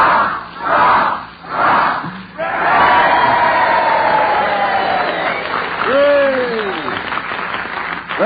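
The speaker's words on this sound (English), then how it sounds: "we'd like to cheer the greatest all-star team in history, the Allied Armed Forces." A group of voices cheers together for the Allied Armed Forces, a loud sustained shout of several seconds after a few short bursts, rising and falling like a rousing crowd yell.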